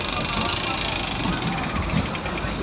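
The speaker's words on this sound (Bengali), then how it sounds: "তো এই তো বাইকটার সাউন্ড শোনেন।" A Yamaha FZS version 1 motorcycle engine with a sound problem runs close and loud in a steady, dense mechanical drone with a rough, knocking texture.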